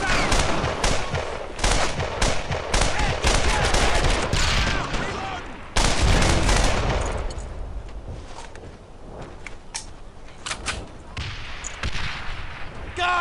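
Gunfire rattles through the WWII shooter Brothers in Arms: Earned in Blood during a tank-destroyer escort in St Sauveur, with dense bursts of rifle and machine-gun fire, loud and close early, then thinner scattered shots, with soldiers' voices shouting over it.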